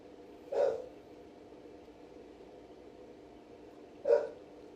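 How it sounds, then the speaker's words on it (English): A dog barks twice indoors, two short single barks spaced a few seconds apart over a steady low background hum, heard at moderate distance with no one talking. "I don't know what my dog's barking at."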